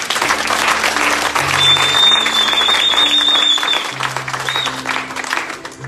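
A church congregation applauds to acclaim the Lord, steady dense clapping from a large crowd with organ or keyboard chords sustained underneath and a brief whistle or cheer rising over it.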